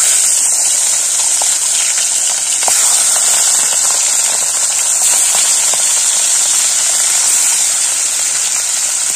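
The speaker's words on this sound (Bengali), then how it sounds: "তেল গরম হয়ে গেছে, এবার আমরা মাছটা ভেজে নেব" Fish frying in hot oil in a home kitchen gives a loud, steady hiss and crackle of sizzling that carries on throughout.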